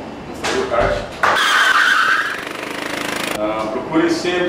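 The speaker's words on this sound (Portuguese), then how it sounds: "Pisou forte no freio kart." A racing kart brakes hard and skids on a track, a harsh, loud burst of tire scrub lasting about two seconds before the engine note returns, with a voice over the top.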